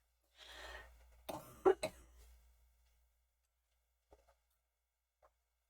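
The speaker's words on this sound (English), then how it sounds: "oh yeah, this dry cough" A few dry, harsh coughs in a quick cluster, close and fairly loud, followed by a couple of faint clicks in near silence.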